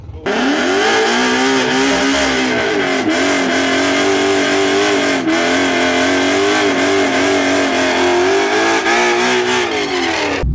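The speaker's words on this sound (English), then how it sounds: "we are racing the new S650 right now" A Ford Mustang S650 race car engine revs loud and close for the whole stretch, rising and falling in pitch as it accelerates hard, with a steady roaring drone and no voices.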